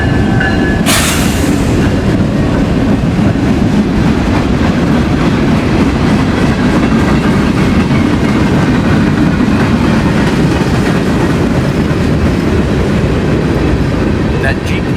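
A long freight train of carbon black hoppers rolls past steadily and loudly, with a sharp clank near the start and continuous wheel rumble and clatter throughout.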